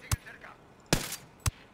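A sniper rifle fired in Ghost Recon Wildlands, heard as a few sharp, separate cracks spaced apart, moderately loud against a quiet background.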